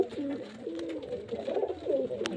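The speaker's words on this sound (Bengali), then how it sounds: "নিচে বাজি আছে ভালো, নর পায়রা সিঙ্গেল আছে নর পায়রা" A male pigeon coos nearby in a series of soft, rolling, throaty calls, repeated with a wavering rhythm over faint background noise and no speech.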